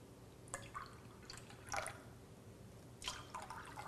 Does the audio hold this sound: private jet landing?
no